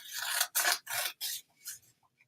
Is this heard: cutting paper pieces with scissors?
yes